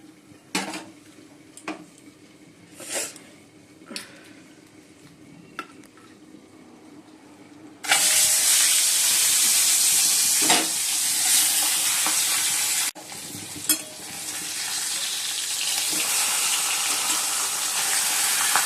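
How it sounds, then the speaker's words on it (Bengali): Fish frying two pieces at a time in a little oil in a pan: scattered clinks and taps at first, then a sudden loud, dense sizzle that stays bright and steady, briefly dipping before surging again. "চলো মাছটা ভেজে নিই।"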